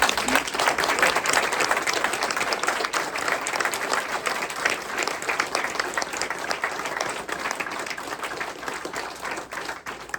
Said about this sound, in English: I would ask if we could christen the Phran Galante Center for Pet Wellness with a tremendous round of applause